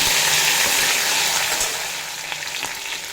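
Spice paste hitting hot oil in a pan with cumin and a bay leaf, cooking for a vegetarian papaya curry, gives a loud, close, continuous sizzle and fry that eases off slightly toward the end.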